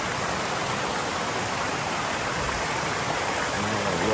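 The Seven Sisters waterfall and river in Grenada rush as a constant, dense roar of falling and flowing water, loud and close with no break.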